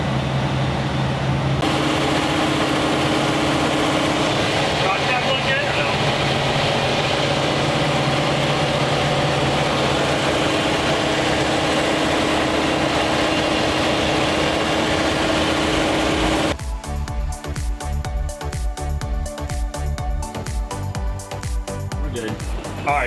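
A Georgetown RV's engine runs steadily while pulling onto a highway, a loud continuous rumble with road and wind noise, shifting to harsher, rattling texture toward the end as speed builds.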